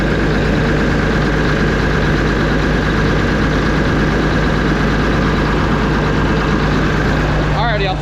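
A truck engine idling loud and close with a steady low throbbing drone and a constant hum, ending with a brief clatter.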